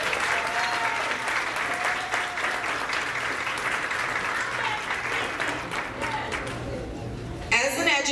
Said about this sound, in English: So I want everyone to please give her a round of applause.